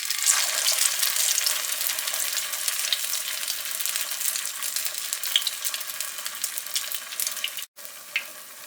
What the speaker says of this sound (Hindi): हीट आ रही है, इसका मतलब है कि हमारा ऑयल गर्म हो गया है। अब हम अपने चपली कबाब इसमें डाल देते हैं।